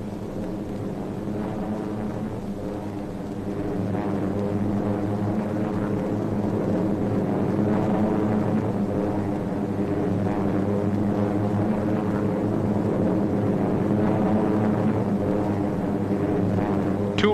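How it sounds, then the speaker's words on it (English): B-25 bomber engines drone in flight en route to a rail bridge strike, a steady rumbling multi-engine roar that swells slightly and holds throughout. "B-25s en route for another strike at the Lohokai Rail Bridge on 21st July."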